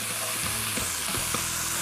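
Chopped, washed leeks sizzle steadily as they sweat in a hot pan, a dense continuous frying hiss with a few soft stirring knocks, close and alone without voices.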